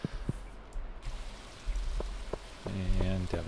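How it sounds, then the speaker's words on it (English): Rain falls steadily in the farming game Stardew Valley, a soft continuous patter with a few brief tonal game sounds and clicks layered over it, with no talking. "I love the rain."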